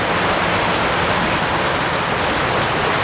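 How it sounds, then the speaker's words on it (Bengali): Steady, dense rain pours down on a rainy day in a Bangladeshi village, a loud unbroken hiss with no voices. "সেই বৃষ্টি হচ্ছে, আসো বৃষ্টি দেখি।"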